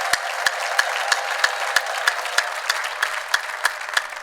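A church congregation claps together in a steady burst of applause, many hands striking at once with sharp, evenly spaced louder claps rising above a dense crowd wash, with no voices heard.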